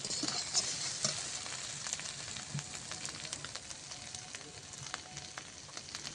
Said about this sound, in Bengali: আলুটা এই কষানো করতে করতে একটু ভেঙে দিয়েছি আধ ভাঙা করে দিয়েছি